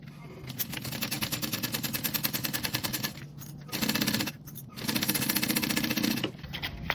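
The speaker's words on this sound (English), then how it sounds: "We're gonna sew along that clipped edge at a 1/4 inch seam allowance" A sewing machine stitches a quarter-inch seam in canvas for a small tote, with a fast, steady mechanical chatter close by. It runs in long bursts broken by two brief pauses.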